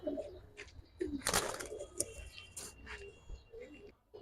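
Giribaz pigeons coo in soft, repeated low calls close by, with feather flutters and rustling mixed in and a voice talking over them now and then.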